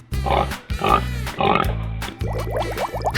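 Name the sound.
pig oinking in 3D animal slide video game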